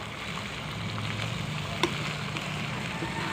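Shrimp sizzle and fry steadily in a pan as they are stirred, with a faint clink of a utensil partway through and no talk.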